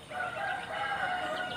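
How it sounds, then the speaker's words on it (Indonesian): A bantam rooster with red plumbing crows once, a drawn-out, fairly close call lasting the whole moment with no talking. "kalau ini ayam kate"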